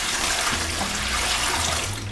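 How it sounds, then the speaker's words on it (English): Four cups of water pour into a cooking pot in a steady, splashing, even stream, close and fairly loud. "Then I'm going to add 4 cups of water."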